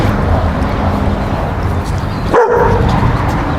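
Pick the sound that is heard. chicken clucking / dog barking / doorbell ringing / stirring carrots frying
dog barking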